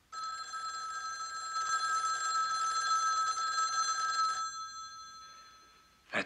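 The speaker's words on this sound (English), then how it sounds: "Or that telephone ringing." A telephone rings steadily for several seconds with a bright, buzzing bell tone, then stops, followed by a brief soft thump.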